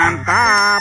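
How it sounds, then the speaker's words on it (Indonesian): A toy rooster plays a short, loud crowing call, close and bright, in one quick rising and falling burst with no other sounds around it. "yang ini ada ayam berkokok"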